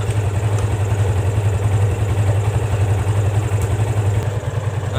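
A Yamaha FZ250 motorcycle engine idles steadily up close, with a low, even throb that holds for five seconds and no talking over it.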